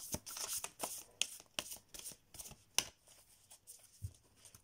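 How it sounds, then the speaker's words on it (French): Tarot cards are shuffled by hand in quick bursts of riffling and sharp clacks, close and fairly quiet, with short pauses between bursts and no speech. "désolée si les cartes claquent"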